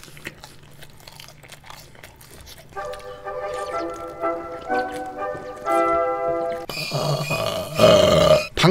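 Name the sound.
burp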